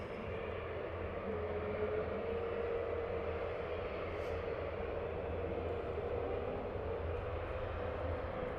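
SAS airliner taking off from a shortened run at Dublin Airport, a steady, distant, broadband engine roar that holds level throughout without building or fading.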